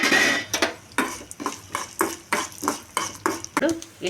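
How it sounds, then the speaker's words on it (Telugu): Peanuts, coriander seeds, urad dal, chana dal and cumin frying in oil in a pan, stirred with regular scraping strokes and light rattling, a soft sizzle beneath the rhythmic clatter. "ఈ నూనెలో పల్లీలు ధనియాలు మినపప్పు పచ్చనపప్పు జీలకర్ర అన్నీ వేసి వేయించుకోండి"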